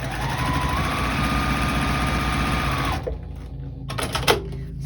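A sewing machine runs fast and loud while sewing quilt block pieces together, then stops after about three seconds, followed by quiet handling noises and a brief clunk.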